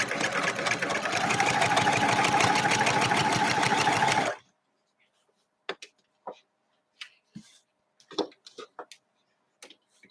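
Longarm quilting machine stitching a quilt, a loud, fast, steady rattling hum for about four seconds that stops abruptly, followed by scattered soft clicks and small handling sounds.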